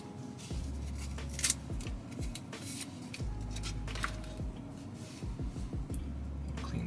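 A wet wipe is rubbed across the corner surface of a Tesla Model Y Long Range, giving soft squishy, scrubbing strokes in irregular bursts close by, over a low steady background hum.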